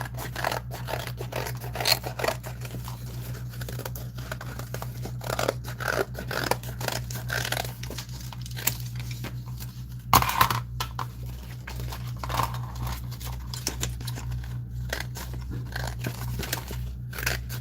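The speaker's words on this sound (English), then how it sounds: "Now I'm trying to cut right on the line, if not a little on the inside" Scissors snip repeatedly through paper as flower petals are cut along a pencil line, a string of crisp close cuts and crinkles over a low steady hum, with no talk.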